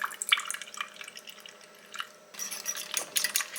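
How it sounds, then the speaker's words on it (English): Half and half trickles from a container into beaten eggs in a bowl, giving soft, close liquid splashes and drips, with a few louder pours toward the end. "I'm just going to pour a little of my half and half in there"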